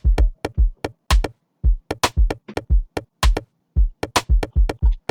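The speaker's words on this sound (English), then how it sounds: "I'm going to solo only the drums" A soloed electronic drum pattern in FL Studio for an Afrobeats track plays alone: punchy low kicks and crisp percussive hits in a tight, syncopated groove, loud and dry.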